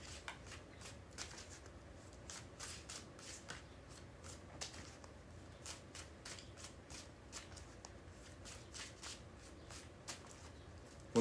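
Cards are riffled and shuffled in quick crackling bursts, a rapid papery flutter repeating close by with no talking.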